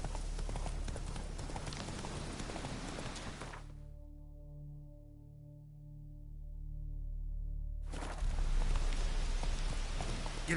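Horse hooves clip-clop steadily in a PS4 video game, a continuous rhythmic patter that drops away midway and then resumes, heard alone with no talking.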